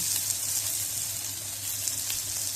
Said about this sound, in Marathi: ह्याच्यात गरम मसाला जरा भाजून घ्यायचा